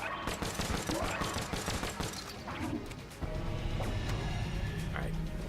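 Explosions and gunfire crackle through a dense run of the roguelike shooter game Enter the Gungeon, with loud bursts and crashes, a brief lull, then another heavy blast followed by continued rattling shots.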